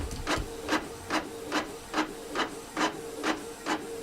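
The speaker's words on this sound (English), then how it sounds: "It appears to be printing." A desktop label printer feeds out a shipping label with a steady run of about nine short, evenly spaced mechanical whirring strokes, close and clear, with no talking over it.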